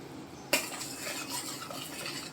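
A spoon stirs sugar into rice kheer in a metal pot, starting with a sharp scrape and clink against the side and followed by a steady soft scraping and swishing, close by and fairly quiet, with no talking.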